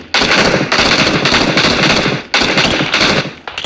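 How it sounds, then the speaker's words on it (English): Sustained bursts of automatic gunfire out in an open field, loud and continuous rattling in two long volleys split by a brief gap, with no talking. "Someone shooting up here. Out there in the field."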